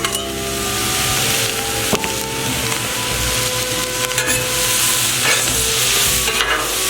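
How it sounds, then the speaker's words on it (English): Pre-cooked yakisoba noodles sizzle loudly in a hot pan while being stirred, with steady frying hiss and repeated scraping and clacking strokes of the utensil, close and continuous. "We'll go ahead and get the yakisoba noodles on."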